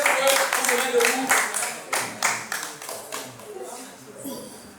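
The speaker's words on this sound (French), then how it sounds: "Applaudissez pour eux, on se met debout." Audience clapping and applauding as they rise to their feet at a speed-dating event, a run of loud claps that thins out toward the end, with a voice speaking over it.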